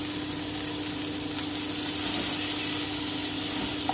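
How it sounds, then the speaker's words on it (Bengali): Spices with Kashmiri chilli powder, turmeric and salt frying in a pan: a steady, fairly loud hissing sizzle with faint stirring scrapes and a low background hum, no talk. "আমি এবারে খুব ভালো করে একটু ভেজে নিচ্ছি"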